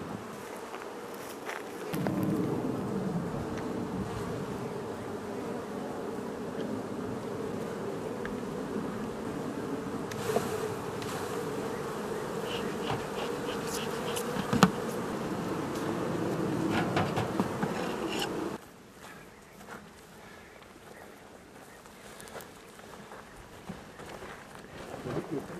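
A dense, steady hum of honey bees fills the air at a highland honey harvest in Turkey, loud and continuous for most of the stretch before dropping to a fainter drone near the end.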